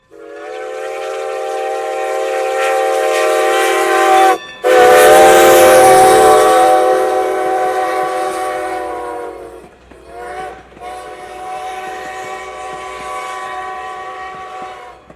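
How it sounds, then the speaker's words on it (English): A restored early 20th-century steam locomotive sounds its whistle in long, loud, harmonic blasts, with a short break in the first blast and a quieter sustained blast after a brief pause. "with motive power provided by one of 3 beautifully restored steam locomotives from"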